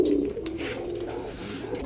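Pigeons sold as a pair coo in low, throaty murmurs close by, a continuous soft cooing over faint background noise.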